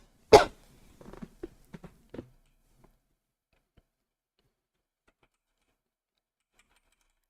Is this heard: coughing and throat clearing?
yes